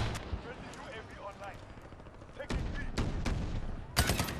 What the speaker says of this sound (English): So if I just shoot this javelin at a rooftop,